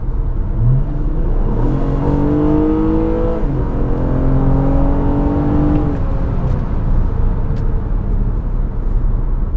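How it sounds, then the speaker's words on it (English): A 2017 Honda Accord Coupe V6 accelerates hard on the road, its engine note climbing in pitch as it surges, easing at a shift and rising again, loud and steady throughout with no talking over it. "the power is just effortless in terms of the way it kind of surges off, and it's got a nice, kind of mechanical tone to it"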